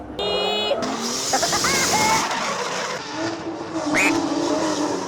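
A car on a drift competition run skids with squealing tyres and engine noise, loud and continuous, with voices faintly underneath.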